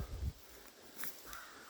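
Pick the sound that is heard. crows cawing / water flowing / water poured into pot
crows cawing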